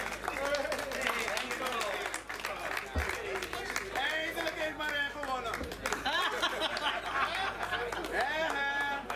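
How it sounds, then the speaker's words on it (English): A crowd at a charity golf tournament awards event applauds the winning team, clapping mixed with lively chatter and laughter under steady talk. "A round of applause for the first team."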